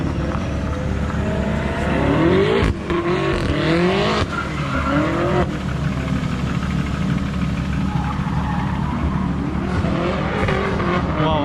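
A BMW E36 and a BMW F90 drift during a Hari Raya 2020 gathering, with loud, sustained engine roar and long tire squeals and skids sweeping past, continuous and without speech.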